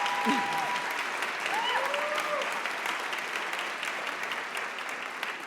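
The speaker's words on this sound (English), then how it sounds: "We can clap about that." An audience claps steadily at a school district's support employee awards ceremony, a sustained wash of applause with a few whistles or cheers rising briefly near the start.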